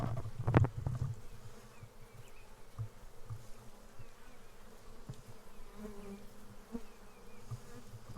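Honey bees buzzing around their hive: a brief loud buzz near the start, then a soft, steady hum of insects lingers faintly in the background.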